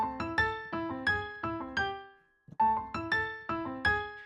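Solo piano plays an arpeggiated, syncopated montuno from an Addams Family musical number, two repeated phrases separated by a brief pause, clear and close.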